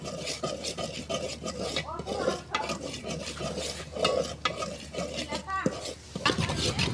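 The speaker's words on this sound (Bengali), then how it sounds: "দেখুন ঢালা লাগিয়ে লাল লাল করে একটু ভাজে নেব।" Wheat flour and rice flour dry-roasted in a pot until reddish, stirred with a utensil in steady, rhythmic scraping and rubbing strokes, close by, with faint background voices.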